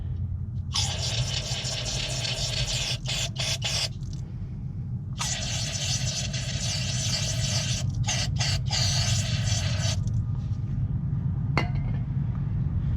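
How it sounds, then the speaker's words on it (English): Aerosol brake cleaner sprays through a straw into the caliper slide bores of a Chevy Cobalt, Pontiac G5 or Saturn Ion. Two long hissing bursts come close and loud, each broken by short sputters, over a steady low hum. "Take the brake clean, put the straw on there, and clean out these slide bores"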